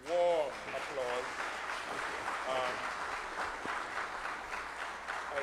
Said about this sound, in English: give Professor Anand a very warm applause